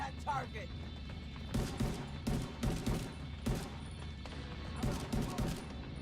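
Machine gun fire in the video game The Division 2, several bursts of rapid shots spread across the moment at moderate loudness, with people talking over the gunfire.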